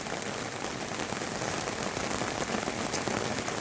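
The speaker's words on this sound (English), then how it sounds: "this little storm has been building for quite a long time now, and now has arrived" Heavy rain pours down as a storm arrives in the wet season in Moremi, Botswana, a loud, dense, steady hiss of drops striking surfaces close by, with no voices.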